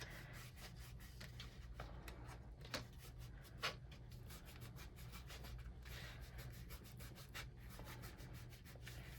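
Glued paper pieces being rubbed down by hand on a 6x6 scrapbook album, a quiet steady scuffing friction with a couple of faint taps, low-level and close, with no talking.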